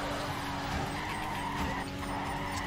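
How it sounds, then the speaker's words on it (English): Drift car tires skidding and squealing after an aggressive clutch kick in the video game Torque Drift, a steady, loud screech over continuous engine roar lasting the whole moment. "Oh, that was a very aggressive clutch kick."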